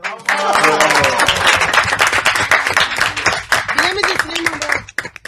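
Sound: studio audience applause on a quiz show

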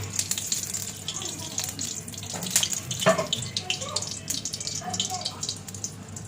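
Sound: washing dhenki saak greens with water

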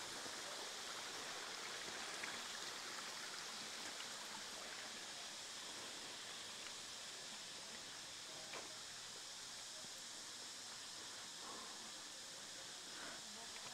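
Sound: flowing stream at an eco-tourism cafe

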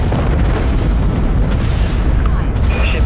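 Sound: primary weapons firing in Dreadnought video game

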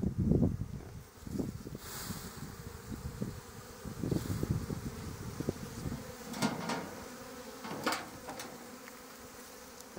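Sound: honey bees buzzing at an open hive

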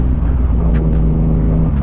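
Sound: Yamaha MT-09 motorcycle riding, engine running

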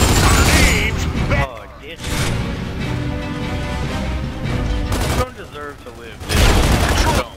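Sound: gunfire in Gears of War 2 video game

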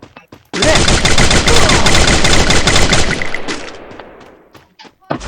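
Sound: gunfire from a charge gun in a video game

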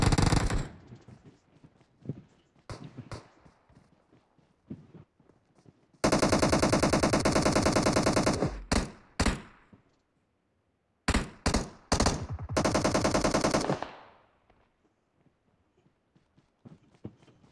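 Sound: gunfire in video game PUBG Mobile

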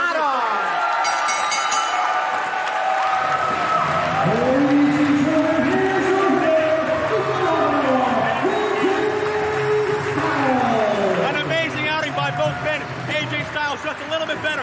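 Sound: wrestling crowd erupting after a Styles Clash

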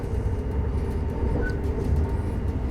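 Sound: riding a PKP Intercity passenger train

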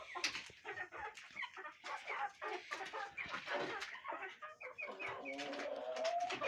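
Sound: chickens clucking

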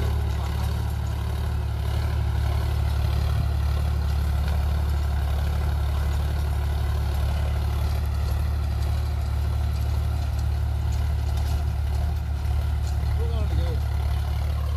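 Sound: Sonalika tractor running a 7-foot rotavator

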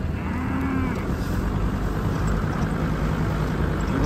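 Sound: cattle mooing in a field

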